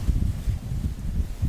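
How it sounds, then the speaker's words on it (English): Strong wind gusts outdoors among palms, a low buffeting rumble with irregular surges, like wind striking the microphone more than clear leaf rustle. "it's still very windy"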